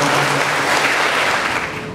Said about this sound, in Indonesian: Kita beri tepuk tangan dari kami.